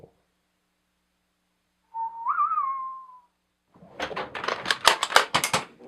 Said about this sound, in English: It was the whistling.